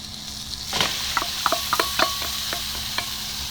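Chopped home-grown onions hitting a hot pan for chicken curry, a rush of sizzle followed by a steady frying hiss broken by several crisp clicks of stirring, close and with no voices.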